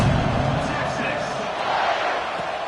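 Football stadium crowd during a college game, a steady broad roar and murmur of many spectators filling the air without distinct cheers, continuous and fairly loud throughout.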